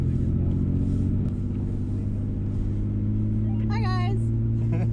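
Nissan R32 Skyline GT-R engine at an autocross event at Road America, a steady low rumble idling or cruising close by, with people talking over it and a brief high whine near the end.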